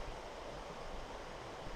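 The Highwood River flows past in a steady, broadband rush of water, faint and continuous with no other sounds.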